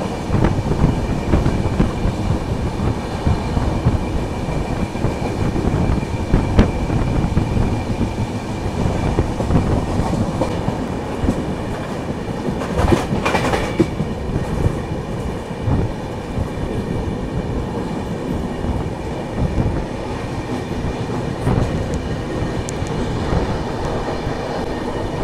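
Broadband rumble and rattle of a passing express train at Atul station, running steadily and loud throughout with rhythmic wheel clatter, a brief brighter burst of rail noise midway, no talking.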